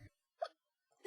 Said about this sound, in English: Sorry, I have hiccups.